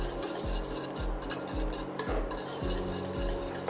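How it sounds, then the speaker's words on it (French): Sugar and starch being whisked continuously in a pot as they cook, giving a quiet, rhythmic scraping and clinking of the whisk against metal, roughly two strokes per second, with no talking. "je vais cuire l'ensemble sans cesser de fouetter jusqu'à ce que le mélange prenne en épaisseur"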